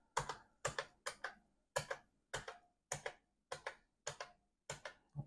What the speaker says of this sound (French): Mon clavier, c'est un clavier anglais, donc c'est le clavier anglais qui apparaît à l'écran. On va tester les touches.